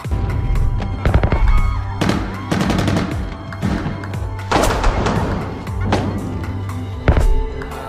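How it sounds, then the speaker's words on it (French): Rapid bursts of sharp gunfire crackle and pop in clusters, loud and close, with a low drone underneath. "Lorsque le bruit des coups de feu s'arrête"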